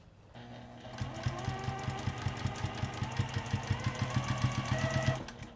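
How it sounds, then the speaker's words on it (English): A sewing machine runs steadily, its needle punching a quick, regular rhythm of stitches to tack fabric in place, loud and close with no voices over it. "We will take a couple of stitches just to tack that in place."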